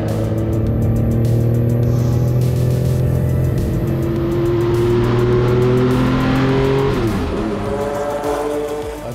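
A Porsche 962 C race car drives past on a straight, its loud engine howling at steady high revs, then the pitch drops sharply as it passes and recedes.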